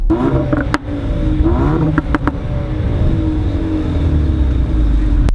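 A 2018 Renault Megane RS hot hatch engine starts and settles into a loud, rough, burbling idle with sharp crackles, close by and filling the whole stretch.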